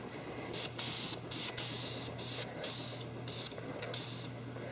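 A spray paint can sprays camo paint onto a 20-gauge shotgun in repeated short and long bursts of loud hissing, separated by brief pauses.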